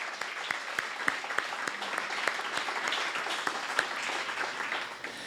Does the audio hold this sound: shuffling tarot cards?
no